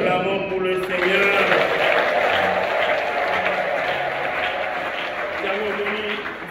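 Worshippers at a Catholic Mass applaud the Lord in a sustained wash of clapping, with voices of the crowd and the celebrant's speech carrying over it in a large, reverberant space.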